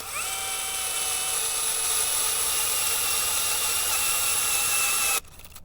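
A power drill fitted with a planting auger whines steadily and loudly as it bores into garden soil, running for about five seconds before stopping abruptly.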